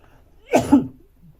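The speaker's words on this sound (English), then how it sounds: "I just need to have a cough." A single short cough, close and fairly loud, with quiet surroundings before and after.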